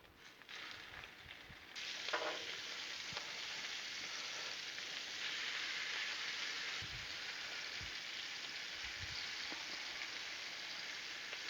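Sausage fries on a Blackstone griddle, a steady soft sizzle that hisses continuously with a few light scrapes and taps, fairly quiet and close, with no talking.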